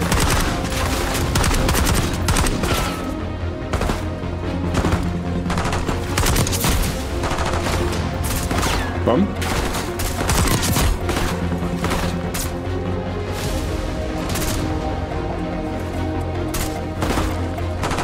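Sustained gunfire from Call of Duty: Black Ops 6 rattles on for the whole stretch: loud, dense automatic bursts and rapid shots with occasional heavier booms, with no pause in the firefight.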